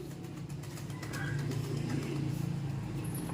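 Racing pigeons coo in low, throaty rumbles, growing louder and more continuous partway through, with faint outdoor background noise.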